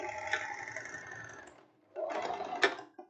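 A Jack overlock sewing machine stitches an elastic waistband, two short bursts of whirring, ticking motor with a brief pause between them, close and fairly quiet, without speech.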